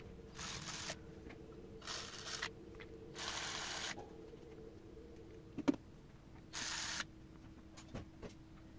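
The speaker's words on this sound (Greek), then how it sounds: "τώρα σφίγγουμε γύρω γύρω με την ηλεκτρική καστάνια" An electric ratchet runs around the bolts of a Piaggio Beverly 300 ie scooter during a transmission spring change: four short, loud buzzing bursts separated by pauses, with a few faint clicks in between.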